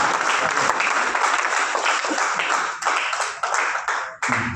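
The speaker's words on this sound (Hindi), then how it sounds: "जरा तालियां बजाइए एक पुस्तक और।" Hindi comedy poetry gathering audience at a hotel in Ayodhya applauding, a dense steady wash of many hands clapping that continues throughout and thins slightly near the end.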